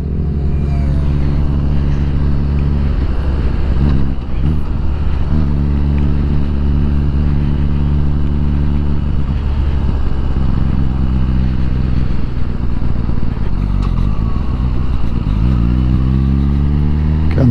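A Suzuki GSX-R1000R rides on open road near Great Yarmouth, its engine droning loud and close with steady harmonic tones, shifting pitch as it accelerates and eases off under constant wind rush.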